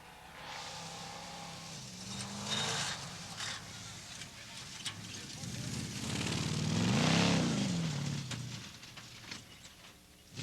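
An off-road race truck competing in a desert safari-style triathlon race revs its engine. The loud mechanical roar rises and falls, swelling to a strong peak before easing, with commentary voices over it.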